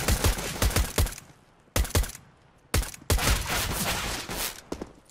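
Rapid bursts of gunfire in the competitive shooter CS:GO, several loud sharp volleys separated by short pauses, close and dense with no talk over them.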